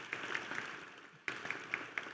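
A few people clap faintly for the university's First Lady at the UAFS Lion Legacy Celebration, sparse separate claps with a short lull in the middle, quiet and distant.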